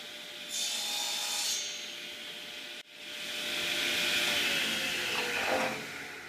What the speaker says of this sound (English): Using a hand chisel, I clean up any overhanging debris and sand the surface, preparing it for glue.